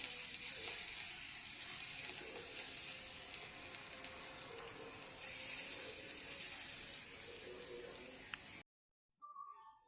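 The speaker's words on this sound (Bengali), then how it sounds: "তেল গরম হয়ে গেছে, এখন দিয়ে দেব পকোড়াগুলি।" Cabbage pakoras drop into hot oil and fry with a steady, bright crackling sizzle that swells and eases, close up, before cutting off abruptly near the end.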